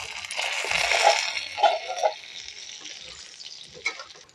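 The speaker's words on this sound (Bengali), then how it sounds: "আলুগুলো খুব সুন্দর মুচমুচে ভাজা হয়ে গেছে" Potato pieces frying in hot oil in a pan, a soft continuous sizzle with a few stirring knocks and scrapes, close and moderately quiet.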